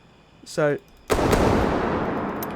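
Pistol gunfire in the video game Prehistoric Hunt: a short tonal game sound, then a single sharp loud shot whose echoing boom decays slowly over the next second and a half.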